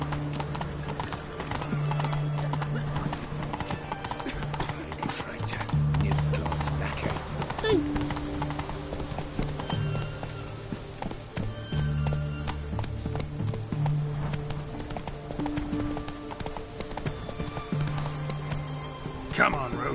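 Roach, Geralt's horse in The Witcher 3, galloping with rapid rhythmic hoofbeats and an occasional whinny, accompanied by game music, with a voice speaking briefly.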